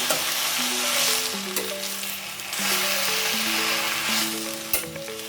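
Kirak sali greens frying and being stirred in a pan for a Karnataka-style palya: a continuous hiss of sizzling with scraping strokes, close and steady, over soft background music.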